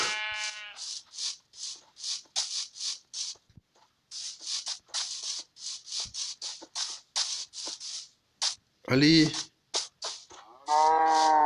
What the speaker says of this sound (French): ces vaches, elles sont agitées